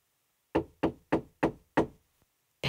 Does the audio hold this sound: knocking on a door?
yes